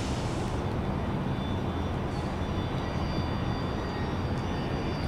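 A jet airliner at Tampa International Airport roars steadily and loudly throughout, a continuous broadband engine rush with no talk.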